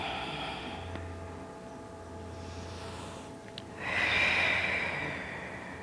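Slow, deep yoga breaths outdoors, a long soft inhale and exhale, then a louder breathy exhale near the end, with no talking.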